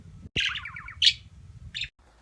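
A small bird gives a few sharp, high chirps and a short trilling warble, close by, with quiet gaps between calls.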